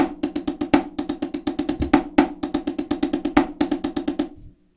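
Rudimental snare drum figure in 9/8 played slowly, a steady stream of crisp strokes with regular louder accents over a two-bar pattern, close and alone before a clean stop.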